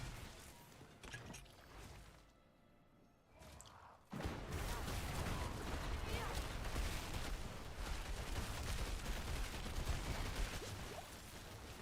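An artillery shrine effect fires in a video game, rumbling as a loud, continuous barrage of blasts after a brief quieter stretch.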